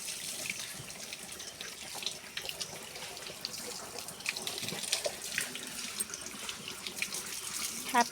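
Tap water runs steadily into a basin while someone's head is washed, a close, continuous splashing stream with small bursts of spatter and no talk.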